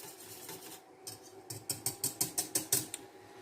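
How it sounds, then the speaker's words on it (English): A whisk beats thickener into syrup to break up clumps, producing a quiet run of quick rhythmic clicking strokes against the bowl that grows steadier and louder toward the end, with no talking. "we're just whisking it to get all the clumps out"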